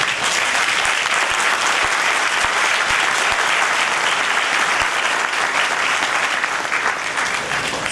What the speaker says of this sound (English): who are in the audience giving a round of applause